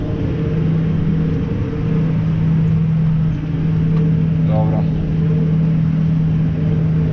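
Engine of a push lawn mower running steadily during hay mowing, a continuous loud drone with a strong low hum throughout and a brief rise in pitch midway.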